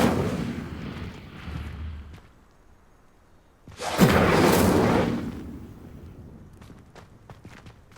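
A fire spell cast in Hogwarts Legacy bursts out as a single loud whooshing blast near the middle. It starts with a sharp onset, roars for about a second, then fades, with quieter rustling and thuds before and after.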